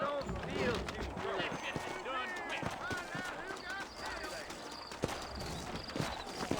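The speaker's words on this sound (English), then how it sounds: "I got the horses saddled up and ready out front." Saddled horses clip-clop in the western video game Red Dead Redemption, their hooves beating in a steady rhythm while characters talk over the hoofbeats.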